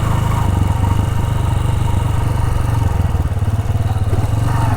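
A motorcycle idles close by while being parked in the shade outside a historic temple near Gujranwala, its single-cylinder engine putting out a steady, rapid, loud chugging throb that holds for several seconds with no talk.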